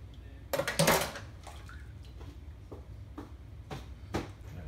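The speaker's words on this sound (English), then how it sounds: "We're putting the cups in the pan so it'll be easy for us to put it in the freezer." Cups being set into a pan for the freezer while making limber de leche: a cluster of close clattering knocks up front, then a few sparser taps and clinks spread out over a constant low background noise.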